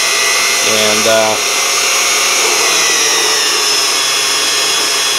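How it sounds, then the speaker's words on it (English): A Unimat SL1000 lathe cuts 1018 steel at a generous feed rate, giving a steady, high-pitched whining drone that runs unbroken and loud throughout, with a brief spoken word over it near the start. "even with a generous feed rate here, it is peeling the 1018 off"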